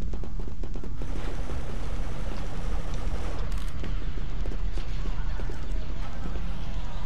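Continuous loud gunfire from a blaster in a modded Star Wars Battlefront 2 Death Star match, a dense rapid stream of shots with game noise throughout.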